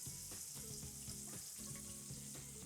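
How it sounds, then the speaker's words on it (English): Fresh basil leaves frying in hot oil, a steady close sizzle and crackle with faint stirring, no voices. "So I'm gonna let it fry till it's crispy."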